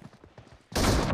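A short burst of rapid gunfire from the mobile game BGMI erupts loudly for a fraction of a second after a brief stretch of quieter game sound.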